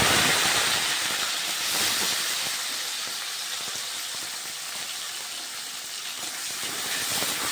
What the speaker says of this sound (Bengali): টমেটোগুলো আমি একটু ভালোভাবে ভেজে নিই